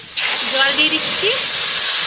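Water poured into a hot pan of taro curry with salt and turmeric bursts into a loud, sustained steam hiss right after a brief quiet moment, close and steady, with a faint voice underneath.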